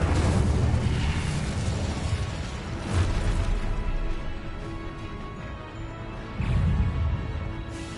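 Incendio and Expelliarmus spell casts in Hogwarts Legacy, a string of booming, bursting magical blasts with low rumbling swells, several heavy hits spaced across the clip.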